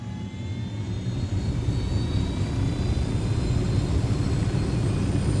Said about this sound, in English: Ya, ini heli nih.